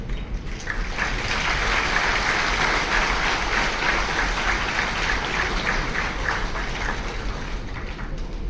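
Dense, sustained applause from a packed theatre audience, steady and loud throughout with no speech over it.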